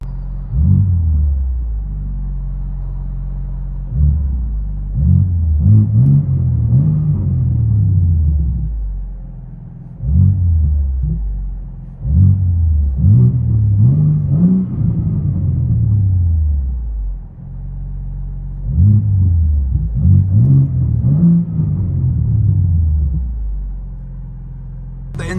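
Inside a 2025 BMW M3 Competition fitted with a Dinan X-pipe and resonator delete, the engine rumbles and climbs through repeated revving pulls, each rising then dropping, loud and deep in the cabin with short lulls between bursts.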